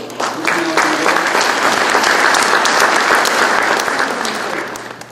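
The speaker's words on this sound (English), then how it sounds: "Get a round of applause for" A full round of applause from a conference audience, dense steady clapping that swells quickly and holds for about five seconds before tapering off.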